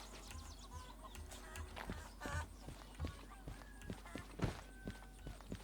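Chickens cluck and squawk inside a chicken coop in the train game Derail Valley, with scattered sharp pecking and stepping thumps and faint calls.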